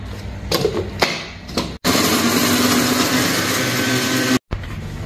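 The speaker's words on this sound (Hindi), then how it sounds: "चलो चलिए इनको हम ग्राइंड कर लेते हैं।" An electric grinder whirs loudly and steadily while grinding whole spices including cloves, running for about two and a half seconds after some brief clatter, then stopping abruptly before a short final burst.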